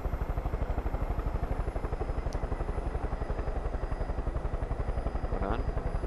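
A helicopter flies in a video game, its rotor chopping in a fast, even rhythm with a steady engine drone, loud and close, with faint voices underneath.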